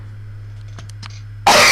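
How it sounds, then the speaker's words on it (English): A single loud, harsh cough bursts in abruptly near the end after a stretch of near-quiet, close to the microphone. "had a cough really bad"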